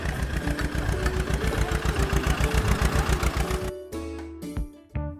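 Tractor engine running with a steady, rapid mid-pitched chugging rhythm, loud and close for most of the clip, then cutting off into a few scattered knocks and thumps near the end.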